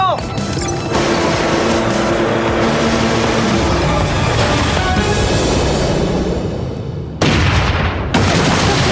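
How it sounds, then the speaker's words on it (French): A loud cartoon explosion from a French animated spy series rumbles with deep booms and crackling debris for several seconds, then cuts abruptly into a brief burst of action. "il reste plus que 10 secondes avant l'explosion"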